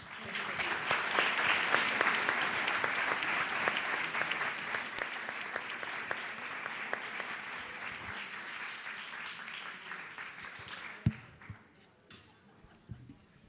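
Conference audience at a CEO summit applauding three speakers, a full, steady round of clapping that gradually thins and breaks into scattered claps and a few last hand strikes near the end.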